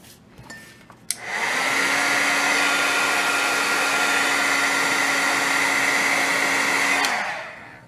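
A handheld heat tool switches on with a click and blows a loud, steady whooshing hum for about six seconds while melting embossing powder on a card, then winds down.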